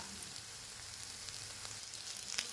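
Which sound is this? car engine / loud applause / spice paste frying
spice paste frying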